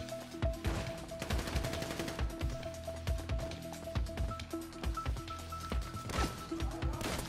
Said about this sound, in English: Oh shit, I heard a shot